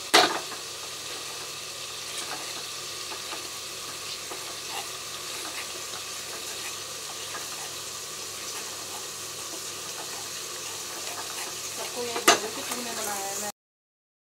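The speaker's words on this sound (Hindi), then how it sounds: "गाइस और ये हमारा मसाला थोड़ा और भुनना है हमको ताकि टेस्ट बढ़े।" Tomato masala sizzles steadily in a pan while a spoon stirs and presses it, soft scraping and frying crackle throughout with a sharper clatter near the end before it cuts off.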